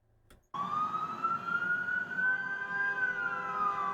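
An ambulance siren on a New York street starts abruptly and holds a loud, steady wailing tone that slowly rises and falls, with nothing else competing.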